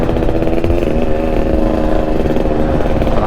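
A Honda Stylo motorcycle engine hums close and steady while riding through a traffic jam, a continuous buzzing drone with slight pitch wavering.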